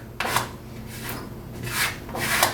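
Squeegee pressed over tape on a concrete brick, making four slow, rough rubbing strokes that swell and fade against a quiet background hum.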